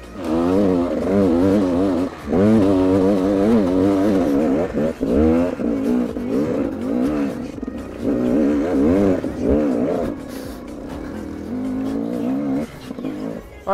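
A GasGas 300 enduro motorcycle engine fires up on its electric starter and runs loudly, its note rising and falling with throttle blips throughout, close by with no talk.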